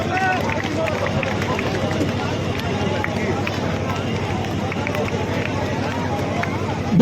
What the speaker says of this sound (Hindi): मेरे बड़े बुजुर्ग जितने भी हैं, जोरदार तालियों से।